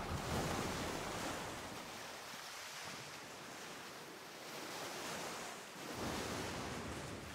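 Skull and Bones game audio of a sailing ship heading into the wind, with broad steady rushing wind and surging waves that swell and ease throughout, loud and continuous with no voices.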